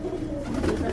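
Pigeons in a loft setup coo in a steady low murmur, several birds overlapping close by without pause.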